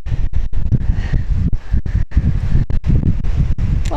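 Strong wind buffets a microphone outdoors, roaring in loud gusts with abrupt dropouts and a rustle of leaves in the background.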